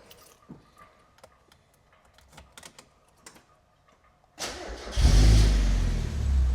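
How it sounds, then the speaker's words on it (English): A Mercedes 240D diesel engine cranks and catches at close range, settling into a loud, throaty idle through an aftermarket exhaust after a few seconds of quiet clicks and rustling. "Starts up nicely. Nice and throaty, yeah?"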